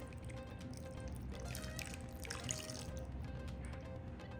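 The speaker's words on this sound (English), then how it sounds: "take 1 cup of water and you're gonna pour it around the edges of your crock pot" Steady trickle of a cup of water being poured around the edges of a slow cooker, a continuous splashing stream at close range with no talking.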